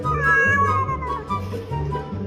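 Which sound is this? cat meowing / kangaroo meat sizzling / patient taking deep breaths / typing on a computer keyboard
cat meowing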